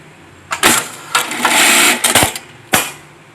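A MAICA GL-21 automatic label sewing machine, fed four wash-care labels at once, stitches in short loud mechanical bursts with one sustained run and brief pauses between, alone with no voices.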